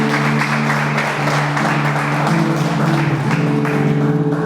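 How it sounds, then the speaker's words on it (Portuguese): Congregation in a church applauding steadily as a dense, continuous wash of clapping under a sustained droning musical tone, fairly loud and even throughout with no speech. "Você pode aplaudir Jesus"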